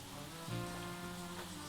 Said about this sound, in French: Je suis au sec, il pleut